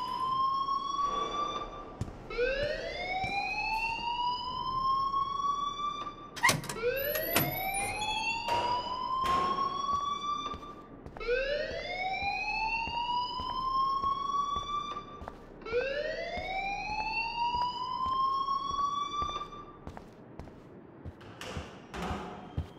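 A school alarm rings in Life is Strange Remastered, repeating rising electronic whoops roughly every four to five seconds, loud and alone, with sharp clicks between cycles.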